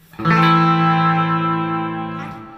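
A single sustained electric guitar chord through a Fender Deluxe amp rings out with a distorted tone, delay and heavy reverb, fading slowly with a reverberant tail.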